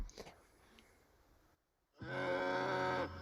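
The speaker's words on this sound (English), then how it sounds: "Is that a cow sound?" A cow gives a single long, low moo, loud and close, after a short quiet pause with some faint rustling before it.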